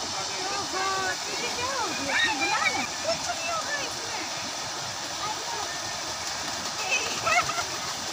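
Fast-flowing water rushes and splashes steadily at a fish pond in Bhaderwah, a dense continuous roar with voices talking over it throughout.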